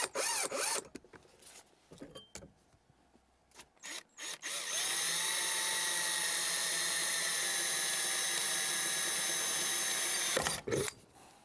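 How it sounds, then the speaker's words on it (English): A power drill bores holes in the console of a 1982-1991 Camaro for a B&M MegaShifter. A steady, loud whine runs for about six seconds, preceded by scattered handling clatter and ending abruptly. "We want to drill it and attach it to the console."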